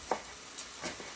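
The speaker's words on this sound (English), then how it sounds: "You can hear my hamburger meat." One pound of hamburger meat frying in a soup pot on a stove, giving a steady close sizzle with a few short scrapes and taps mixed in, and no speech.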